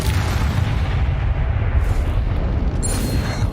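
Spell explosions from Confringo casting in Hogwarts Legacy, a sustained loud booming and crackling barrage with dense low-end rumble throughout, with no gaps between blasts.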